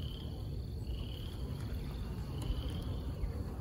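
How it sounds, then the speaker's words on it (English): Bees in an opened long hive packed with a large swarm give off a steady, unbroken insect drone, with a thin high whine riding over a dense low hum, and no voices. "That's a box full of bees."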